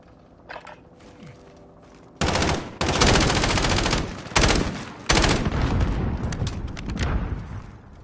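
Rapid bursts of automatic gunfire erupt in a video game gunfight, loud and close, with sustained volleys and short pauses after a quiet opening.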